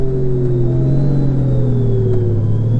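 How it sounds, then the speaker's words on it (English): A Honda Gold Wing with DCT downshifts from seventh gear to slow down on engine braking. Its engine hums loudly and steadily while the pitch of the drone slides gradually downward, with no voices. "That's engine braking."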